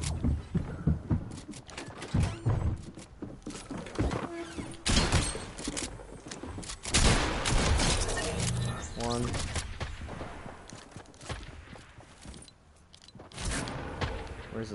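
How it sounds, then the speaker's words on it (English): Sniper rifle shots ring out during a Fortnite Arena match, sharp cracks standing out amid busy game noise and a player talking over them. "That's a sniper."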